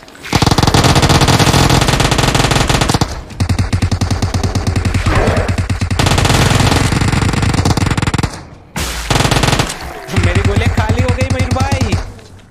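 Rapid, dense submachine gun fire in PUBG Mobile zombie mode crackles almost nonstop, broken by a couple of brief pauses, loud and close with game-like intensity.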